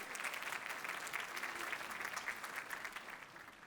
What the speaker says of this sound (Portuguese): a quem pedimos mais uma vez uma salva de palmas